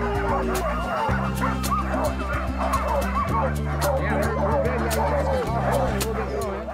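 Sled dogs barking and yipping constantly at a dog mushing tour in Talkeetna, Alaska, a dense chorus of many dogs nearby, with a steady low engine-like hum underneath.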